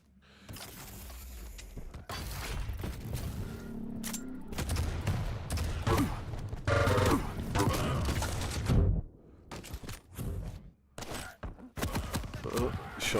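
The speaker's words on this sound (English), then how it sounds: "Shotgun for the win." Shotgun blasts in the arena shooter Quake Champions, several sharp shots among mechanical clanks and other game effects, with a voice talking over the action.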